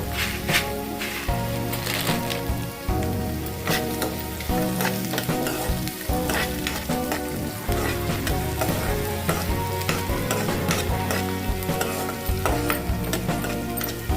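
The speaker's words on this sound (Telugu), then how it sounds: "మంచిగా ఎర్రగా కొంచెం వేగనియాలి." Steady, bright sizzling of spices frying in ghee for upma, with occasional stirring scrapes and tonal music playing underneath throughout.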